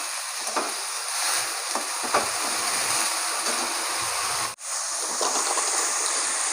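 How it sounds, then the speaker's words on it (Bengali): Onions and potatoes fry lightly in a pan with a little turmeric, giving a steady close sizzle and hiss with a few soft stirring scrapes and one brief break near the end. "পেঁয়াজ আর আলু একটু হালকা করে ভেজে নেবো।"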